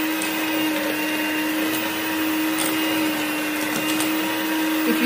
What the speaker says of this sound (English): Going to gently mix this all in on really low speed.